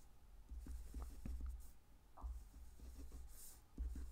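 A pen sketches a cosine graph on paper, giving soft scratchy strokes in short bursts with brief pauses, quiet and close with no talking.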